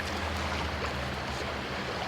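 Water of a trout creek flows steadily with a soft, continuous rushing babble, moderately close and fairly quiet, with no other sounds.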